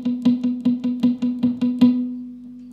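A palm-muted electric guitar riff plays eight short choppy plucked notes in an even rhythm, then a final note rings out and fades, with no talking.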